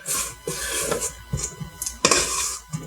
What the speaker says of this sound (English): So, now, give it a quick scrape.